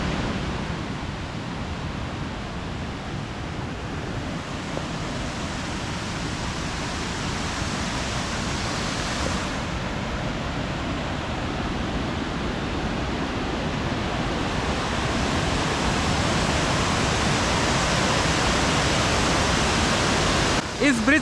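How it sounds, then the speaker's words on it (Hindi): The Duglai waterfall, 200 to 300 feet high, in Duglai village in Balaghat district, gives a continuous broadband rushing roar, steady and fairly loud, with some wind buffeting and no pause across the whole stretch. "ये वाटरफॉल की हाइट लगभग 200 से 300 फीट है"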